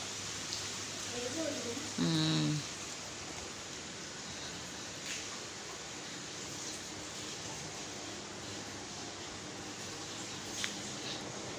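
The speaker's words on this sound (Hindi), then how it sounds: "अभी भी बारिश हो रही है।" Steady hiss of rain falling, constant and fairly loud, with a brief faint squeak near the start and no talking.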